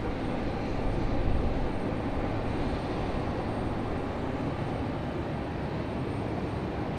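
An arriving airliner at Raleigh Durham airport rumbles steadily overhead, high up and somewhat distant, as a broad, even engine drone holding for several seconds with no voices.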